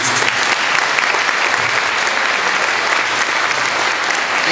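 An audience applauds 2017 scholarship winners at an award ceremony, a dense, steady wash of many hands clapping throughout, loud and sustained with no break.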